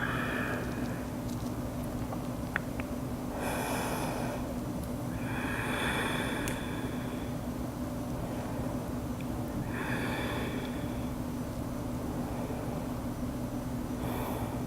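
Slow, deep breaths during a yoga forward fold, a few long airy inhales and exhales heard close over a constant low background hum, with no talking.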